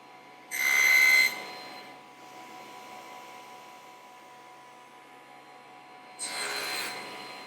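A blade cuts through wood on a router table in two short rasping bursts, one near the start and one at the end, with a faint motor hum between them.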